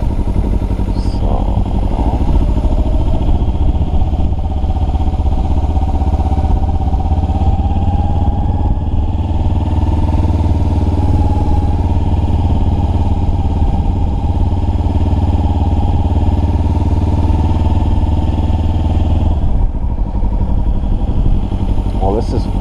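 A motorcycle engine runs steadily while the bike is ridden, a low, even drone that is close and loud for the whole stretch. A rider's voice is heard over it.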